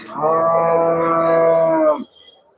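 A single cow at a busy cattle market in Melapalayam gives one loud, close, drawn-out moo lasting about two seconds, then breaks off into quiet.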